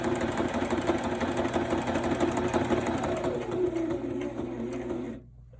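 A sewing machine stitches a Christmas pocket flip with a continuous, rapid mechanical whir for about five seconds before stopping abruptly.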